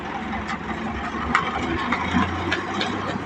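Engine of a combine harvester running in a wheat field, a steady mid-low rumbling drone heard fairly close with faint rattles over it and no talk.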